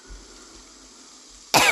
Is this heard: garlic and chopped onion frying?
no